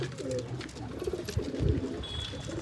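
Pigeons cooing close by in soft repeated throaty rolls, with light rustling and a faint high chirp near the end, no talking.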